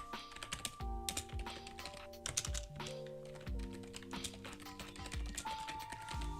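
Typing on a computer keyboard at a trading desk, quick irregular clusters of soft key clicks and taps, close and fairly quiet, with no talking.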